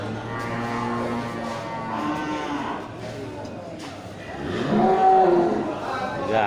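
Large cattle, including banteng, moo loudly at a livestock market, with several drawn-out lowing calls over crowd noise and a strong, rising moo near the end.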